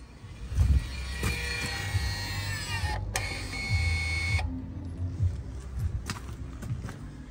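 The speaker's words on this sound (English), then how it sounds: "You hear the piston winding sounds." The electric parking brake piston on a 2016–2019 Mercedes in service mode winds with a soft mechanical whir, pausing briefly and then resuming as a faint motor hum with light clicks.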